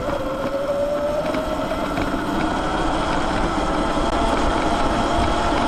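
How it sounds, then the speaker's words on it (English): Sur Ron electric bike fitted with a Kaniwaba pedal kit, ridden on throttle alone in sport mode, with a steady loud motor whine and a slowly rising tone over continuous wind and road rumble. "this is a throttle only test in electric pedal sport mode"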